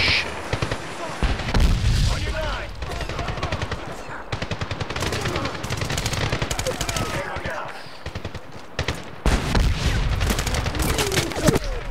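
Enemy gunfire in the video game Medal of Honor on the hard setting: loud, dense bursts of rapid machine-gun fire with booming shots, nearly continuous, with brief lulls between volleys.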